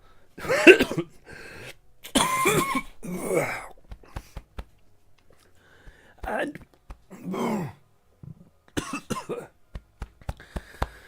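Several rough coughs and throat sounds come in uneven bursts, close and fairly loud, with pauses and short breathy noises between them.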